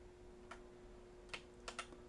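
Computer keyboard keys pressed while playing Project Zomboid, four quiet separate clicks in an uneven rhythm over a faint steady hum, close and alone.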